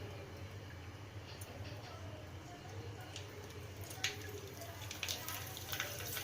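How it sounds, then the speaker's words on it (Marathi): Wheat flour papads (dhapode) frying in a kadhai of oil: a soft, steady, close hiss with a few faint pops and ticks toward the end. "आता आपण हे धापोळे तळून घेऊया"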